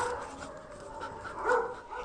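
Rescued dogs at an animal shelter in Istanbul bark and whimper in a low, moderately distant jumble, without any talking.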